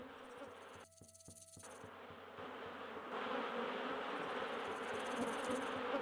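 Steady buzzing of bees in the video game Anasazi, a dense continuous drone laid over layered game ambience and music, loud throughout with no speech.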